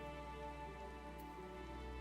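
Steady rain falls in Final Fantasy XIV, a soft, even wash of sound that continues without a break.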